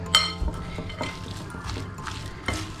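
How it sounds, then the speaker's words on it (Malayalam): Parippu vada batter with coriander leaves and salt is mixed in a bowl, giving soft irregular squelches and a few sharp clinks of utensil against the dish, close and moderately loud, with no talking. "ഇത് നമുക്ക് നന്നായിട്ട് ഇതിനെ ഇളക്കി യോജിപ്പിച്ചെടുക്കാം."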